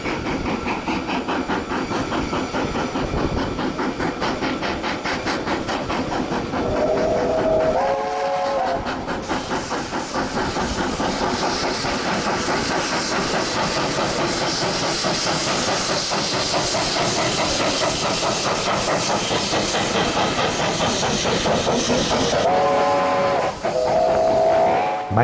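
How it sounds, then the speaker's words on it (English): Mainline Steam's JB 1236 steam locomotive climbing the steep Westmere Bank near Blueskin Road on a Wanganui excursion, loud continuous chuffing with two short whistle blasts, one early and one near the end. "Mainline Steam's JB 1236 nearing the top of the Westmere Bank at Blueskin Road on a local excursion from Wanganui to KiwiRail."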